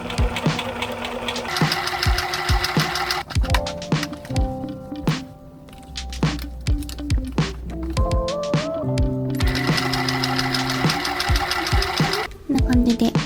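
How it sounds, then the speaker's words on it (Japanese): A sewing machine stitches around a cat collar made from fabric scraps, its rapid mechanical whirring running in long bursts broken by short pauses, with someone speaking between runs. "ここをぐるっともう一周ですね、ミシンで縫っていきたいと思います。"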